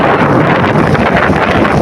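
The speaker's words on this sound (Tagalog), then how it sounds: "Lakas na ng hangin" Strong wind buffets the microphone in a continuous roar, gusting unevenly over the brief moment.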